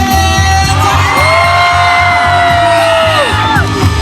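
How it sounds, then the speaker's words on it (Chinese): A large crowd at a Taiwanese-language concert in Zhongli yells, whoops and cheers at full volume throughout, with one long rising scream standing out above the roar. "全场再来一点尖叫声！"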